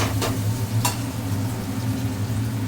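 Chili chicken sizzles in a pan with garlic paste and chili, a steady close frying hiss with a low hum beneath and two brief sharp crackles near the start.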